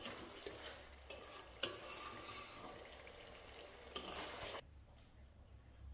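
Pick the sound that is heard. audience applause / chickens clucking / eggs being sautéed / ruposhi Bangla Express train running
eggs being sautéed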